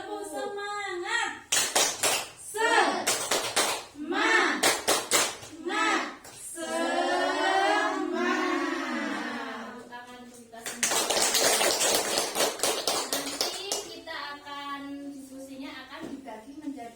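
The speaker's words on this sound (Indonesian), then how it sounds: "Mari kita tepuk semangat dulu ya Ibu." A group of women in a stunting training session perform a rhythmic clapping routine, sharp clustered bursts of claps in set patterns alternating with sung or chanted voices.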